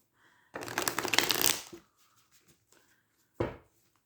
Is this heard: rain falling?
no